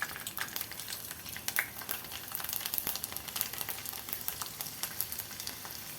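Garlic sizzles in hot oil for Maharashtrian ulta vada pav, a soft, continuous crackling fry with scattered small pops, fairly quiet and with no voices.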